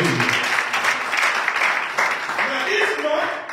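A church congregation claps their hands together in a loud, dense burst of applause, with voices calling out over the clapping throughout.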